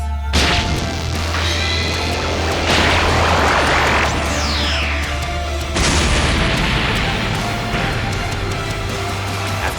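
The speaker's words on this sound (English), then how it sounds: "An explosion vibrates the entire palace" Dense, roaring blasts of an explosion shaking a palace in a Dragon Ball fight scene crash in, with a sharp burst near the start and another after a few seconds, followed by rumbling, sizzling debris over a low drone.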